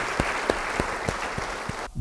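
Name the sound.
audience applause in church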